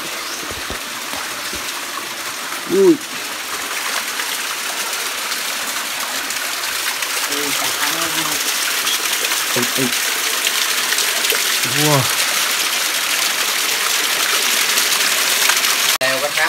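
Rushing water from a tall forest waterfall being climbed, a steady broadband roar filling the whole stretch, with a few short exclamations from a climber over it.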